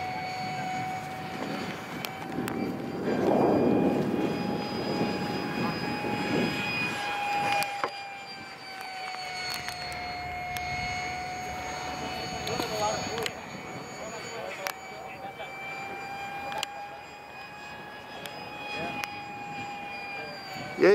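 A model Draken jet aircraft flies on its maiden flight, its engine giving a steady, whining turbine tone that drifts slightly in pitch as it passes, with people talking over it outdoors.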